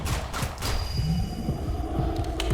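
Heartbeat thumping in the Roblox survival game 7 Days To Live, set in a mysterious forest: steady low pulses run throughout under a continuous hum and background game noise.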